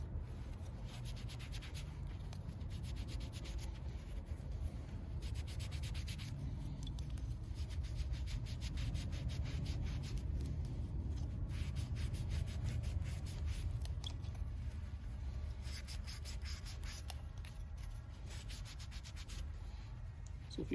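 Remover being rubbed by hand over Rust-Oleum spray paint to strip it, a steady close scrubbing and rasping that runs continuously without pause.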